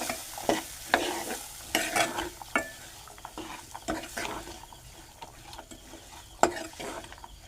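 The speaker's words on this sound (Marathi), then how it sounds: "आपण चांगलं ढवळून घेऊ हे." Vegetable dish with gram flour being stirred in a pan on the stove, a spoon scraping and clattering in bursts against the metal over a soft sizzle, close and fairly loud with no talking.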